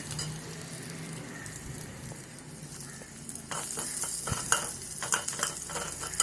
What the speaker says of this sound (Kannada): ಇದಕ್ಕೆ ನಾನು ಜೀರಿಗೆ, ಧನಿಯಾ ಮತ್ತು ಈರುಳ್ಳಿ ಹಾಕ್ಕೊಂಡು ಫ್ರೈ ಮಾಡ್ಕೊತಾ ಇದ್ದೀನಿ